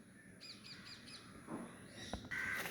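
Birds calling from trees in a village setting with coconut palms, faint repeated chirps early on followed by a louder harsh caw, over low background hiss.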